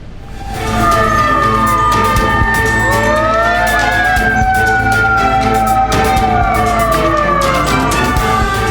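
Fire engine sirens wail loudly and continuously, several overlapping wailing tones rising and falling together, from five trucks sent to a burning food kiosk in central Garut, West Java, with traffic rumble underneath.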